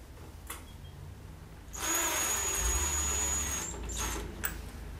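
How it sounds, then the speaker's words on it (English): A power drill driving screws into a TV unit whirs at high speed for a couple of seconds, pauses briefly, then spins again, fairly close and moderately loud. "drill."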